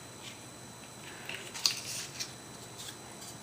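Scissors trimming craft material for a circle wreath with banners, a few quiet close snips over a steady background hiss, with no talking.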